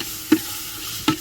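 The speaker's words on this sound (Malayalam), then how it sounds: "നന്നായി ഇളക്കി കൊടുക്കുക." Curry with tomato and green chilli is stirred in a pan, giving two short, quiet scraping strokes about a second apart over a soft, steady background.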